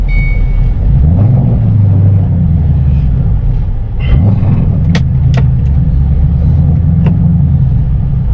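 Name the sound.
2006 Roush Stage 1 Mustang GT engine started and running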